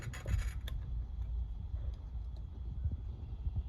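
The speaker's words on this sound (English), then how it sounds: "grab one of my cotter pins that come with it and maybe a pair of pliers. Slip that in" Pliers slip a metal cotter pin into place on a Ford Super Duty front end being rebuilt, giving faint, brief scraping and rubbing with a few small clicks near the start, close up and quiet, with no talk.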